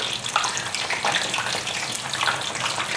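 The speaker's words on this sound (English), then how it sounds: "we're going to fry this for about 3 minutes, and it will be all finished" Firecracker shrimp deep-frying in a pot of bubbling oil: a steady, dense crackling hiss held close and fairly loud throughout, with no voices.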